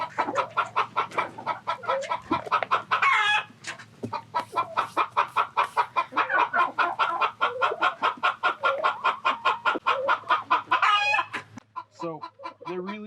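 A flock of chickens clucks busily and rapidly at close range while scrambling for food dropped among them, with a dense, continuous run of short clucks and squawks and a few louder calls.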